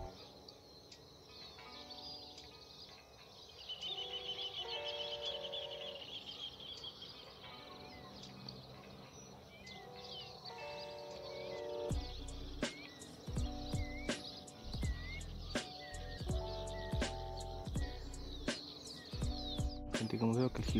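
A goldfinch calls from hiding in a tree during bird trapping, with bright high chirps and twittering over faint insect noise, while someone talks intermittently and sharp clicks and knocks sound in the second half.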